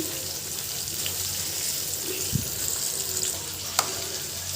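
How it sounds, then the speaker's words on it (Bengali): Onions with green chillies and salt fry in oil in a steady, close, hissing crackle, with a couple of faint clicks from the pan. "তারপর পেঁয়াজটাকে ব্রাউন কালার করে ভেজে নেবেন।"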